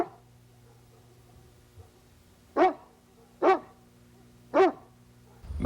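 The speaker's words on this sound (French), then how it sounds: "c'est le chien de garde du voisin." A neighbour's guard dog barks three times in a steady rhythm, each bark loud and fairly close against a quiet, low hum.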